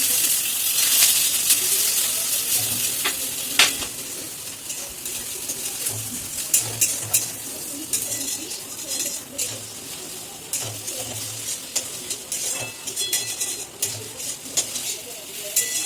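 Eggs frying in a pan for an egg tarka in a home kitchen, a steady soft sizzle with scattered clinks and scraping of a spatula against the pan, no talk.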